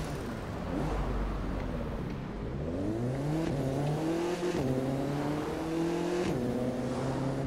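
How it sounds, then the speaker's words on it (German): An Audi RS3 Sportback engine in the video game The Crew 2 revs and shifts through gears as it rises in pitch, sweeping past in a steady synthetic whine with no talking. "da fährt ein Auto an mir vorbei"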